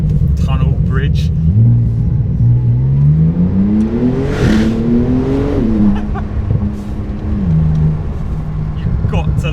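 A Porsche 992 Turbo S revs under a small tunnel bridge, the engine note rising in a long sweep and then falling back, loud and reverberant, with a whooshing turbo burst at the peak.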